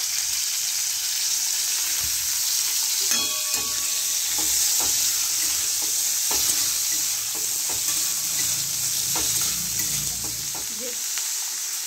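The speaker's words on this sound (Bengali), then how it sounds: "এবার আমি সবজিগুলো ভাজবো। প্রথমে ফুলকপি আর গাজর দিয়ে দিলাম।" Cauliflower and carrot pieces frying lightly in a pan for a vegetable dal, giving a constant hissing sizzle with irregular clinks and scrapes of a stirring spoon, close and fairly loud.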